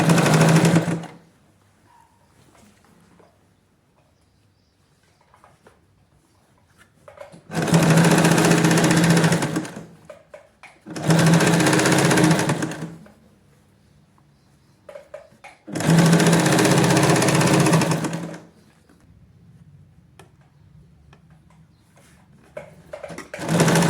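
Sewing machine stitching the folded hem of girl's shorts, running in four loud close bursts of rapid whirring, separated by quiet pauses with faint handling noise.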